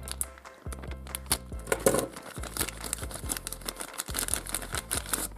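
A plastic toy packet is crinkled and torn open up close, with sharp irregular crackles and rustles over a steady low hum that sounds like background music.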